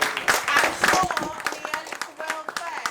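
At a community arts and wellbeing mela, a small crowd gives a brief round of irregular, close clapping that thins out after a couple of seconds, with some voices in between.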